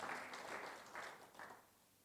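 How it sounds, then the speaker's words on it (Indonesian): Congregation applause during a church worship service, a short burst of clapping that swells in a few waves and fades within two seconds, moderately distant. "Mari berikan tepuk tangan."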